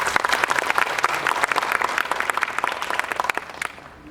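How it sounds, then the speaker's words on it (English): An event audience at the Optimity 2019 workshop gives a sustained round of applause for the partners, many close hands clapping in a dense, lively patter that thins out toward the end. "A huge round of applause for our esteemed partners for the event."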